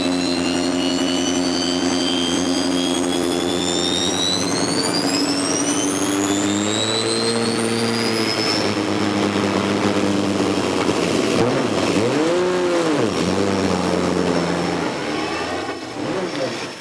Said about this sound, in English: What you can hear is a helicopter starter turbine that maintains the boost to the main power unit